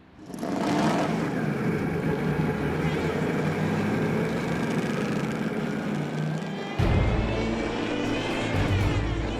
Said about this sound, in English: Today, the 354 horsepower engine is demanding everything from the driver on Mercedes-Benz test track in Untertürkheim.